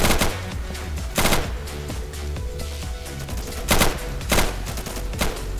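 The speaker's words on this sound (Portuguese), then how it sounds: "Quem que tá atirando ali?" Gunfire in the tactical shooter Insurgency, scattered loud single shots and short bursts over a steady background din of battle, mid-distance and irregular, with no voices.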